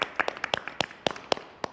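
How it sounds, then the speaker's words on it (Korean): A small group claps together at a live-streamed BTS fan party, with sharp, uneven hand claps popping out in a loose burst that lasts under two seconds. "아, 박수 한번 치고 시작하죠."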